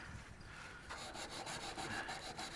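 A 1979 Chevy K20 truck fender being sanded by hand with worn 240 grit sandpaper: after a quieter start, steady back-and-forth scratchy rubbing strokes repeat up close at a moderate, even rhythm, with no talking.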